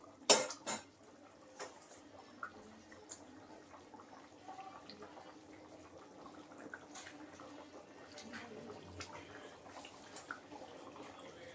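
A lid lifted off a cooking pot with a sharp metallic clatter at the start, followed by faint scraping and stirring of simmering curry in a quiet kitchen.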